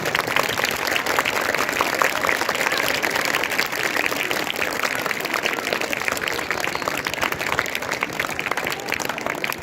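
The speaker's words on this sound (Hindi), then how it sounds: "एक बार अपने लिए ताली बजा दो" Theater workshop participants at JNV Ambala clapping for themselves, a dense, loud, continuous round of applause from a room full of people, sustained evenly throughout with no talk over it.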